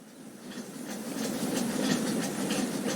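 Passenger train rolling toward Calcutta in a period adventure drama, a steady rumbling hiss of wheels and carriage noise that builds slightly and holds throughout, with no speech.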